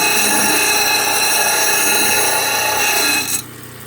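A power tool grinds steadily along the edge of a large chunk of agatized petrified wood, a loud continuous whine holding for over three seconds before cutting off abruptly near the end.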